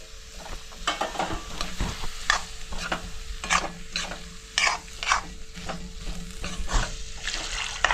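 Potatoes and fresh cashews frying in a pan with roasted spice paste, stirred with repeated scraping strokes over a constant sizzle, the utensil scrapes coming in an irregular rhythm at close range.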